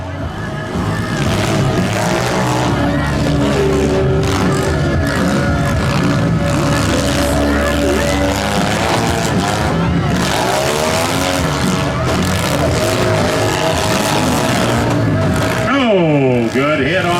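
Junk run demolition derby heat down to four cars, engines revving and whining hard with tire squeals and crunching impacts, loud and continuous beneath crowd noise and announcer talk.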